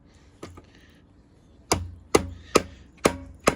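An Ontario RAT 7 fixed-blade knife chopping into a poor-quality piece of wood: a light tap, a pause, then four heavy, evenly spaced chops close by, each a sharp thud with a brief ring.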